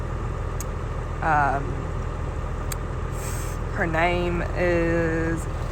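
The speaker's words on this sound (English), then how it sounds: "Take the tractor back." A tractor engine idles on a horse farm with a steady low rumble throughout, while short bursts of speech briefly rise above it.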